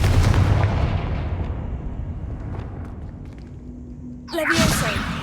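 Confringo spell cast in a video game, a whooshing blast and explosion bursting loudly near the end over continuous rumbling game noise.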